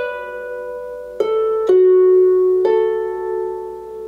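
Plucked harp notes from the tune Leaving Lismore ring out alone, with three distinct plucks layering over a sustained resonant tone.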